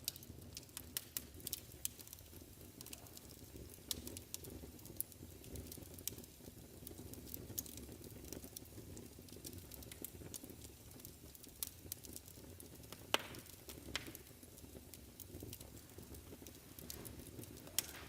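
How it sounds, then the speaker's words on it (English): A fire crackles steadily inside a cottage, with sharp little pops and snaps scattered over a soft, low background hiss, quiet and close with no talking. "Just listen to that fire crackle. Cozy sound, isn't it?"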